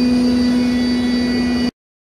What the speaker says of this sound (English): That's a compressor.